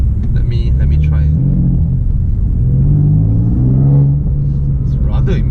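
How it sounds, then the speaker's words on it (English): A BMW M4 F82 fitted with an Akrapovič exhaust rumbles steadily and loudly from inside the cabin, a deep continuous drone that swells midway, with people talking over it. "I like the sound of the exhaust."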